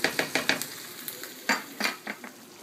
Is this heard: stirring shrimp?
yes